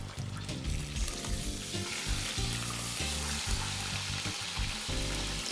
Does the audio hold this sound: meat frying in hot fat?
yes